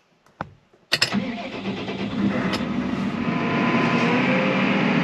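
A heavy harvester engine cranks and catches after a couple of sharp clicks, then settles into a rising, steady rumble that grows louder close by.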